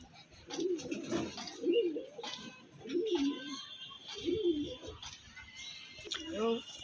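Pigeons from a Dankuni main-line loft coo close by in steady repeated low rolling phrases, roughly one per second, with a voice speaking now and then.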